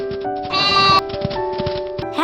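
A cartoon goat in an animated farm story bleats twice in quick succession, loud and close, with a musical backing tone running underneath and no talking.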